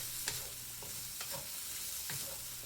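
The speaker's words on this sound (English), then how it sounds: "Simply use a spatula to press on them so they break apart." A spatula presses and scrapes through clumped overnight rice in a pan for egg fried rice, giving soft repeated scrapes and faint sizzling at low volume, with no talking.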